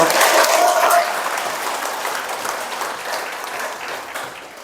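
Applause from a seminar audience, strongest at the start and then settling into a softer, steady patter that fades toward the end, with a speaking voice over the opening.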